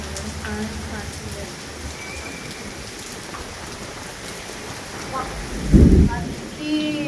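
Steady heavy rain hisses throughout, then a deep rumble of thunder rolls in near the end, with faint voices in the background.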